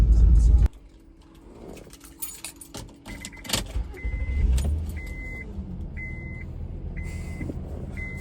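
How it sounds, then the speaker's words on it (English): A Volkswagen Polo car on the drive to work, with engine and road rumble inside the cabin, some handling clatter and rustle, and a regular series of short electronic beeps repeating in the later part. "I'm going to work in the Polo"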